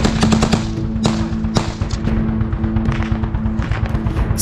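Rapid machine gun fire in wartime Ukraine, loud, close bursts of sharp shots with some heavier single reports, no talk.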